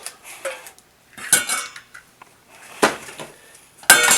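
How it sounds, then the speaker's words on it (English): Two large eggs cracked into a bowl, heard as a few sharp clicks and taps of shell against the rim followed by brief wet splats, close and moderately loud with no talking. "Then we're going to take 2 large eggs and just crack them into a bowl."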